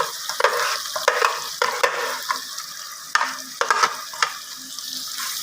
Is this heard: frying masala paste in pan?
yes